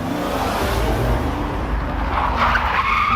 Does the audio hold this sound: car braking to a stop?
yes